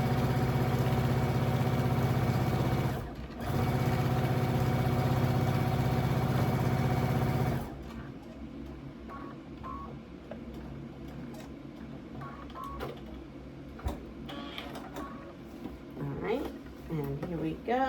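A sewing machine stitches a quilt, running with a loud, steady motor hum and rapid needle chatter for several seconds, pausing once, then stopping. Quieter handling clicks and rustles follow, while a person talks.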